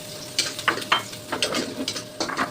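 Onions hit a hot frying pan for a Filipino bupis dish, sizzling in short bursts with spatula stirring, close and moderately loud, with no talking.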